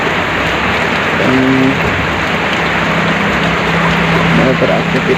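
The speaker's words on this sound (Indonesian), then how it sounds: "Harinya hujan nih. Gak tahu nyampe jam berapa ini, soalnya awet hujannya." Steady morning rain falls without pause, a loud, dense hiss close at hand, with a faint engine-like hum and brief tonal sounds in the background.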